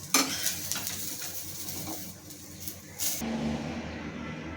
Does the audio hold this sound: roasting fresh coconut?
yes